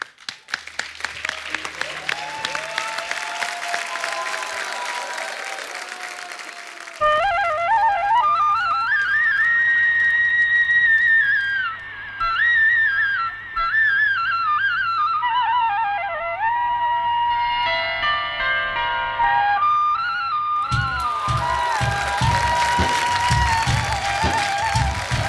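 A live audience gives loud, dense applause for Jaggu Dada at a stage event. Clapping bursts at the opening, gives way to music in the middle, then returns strongly at the end.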